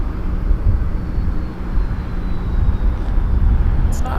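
A Jazz airliner landing on runway 06 left at Toronto Pearson on a winter day, heard as a steady, loud jet roar that holds for about four seconds, with faint radio chatter at the end.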